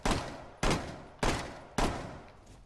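Four heavy gunshots fired through a desk at Bartlett University in Rainbow Six Siege, evenly spaced about half a second apart, each a loud sharp blast with a long decaying tail, no talking.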